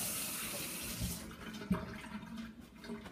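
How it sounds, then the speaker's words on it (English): Running water from a tap rinses something, a steady broadband rush that is loudest in the first second and then continues more softly, with one small knock partway through and no voices. "Another quick rinse."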